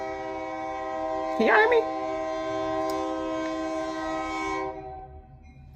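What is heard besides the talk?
train passing with horn blowing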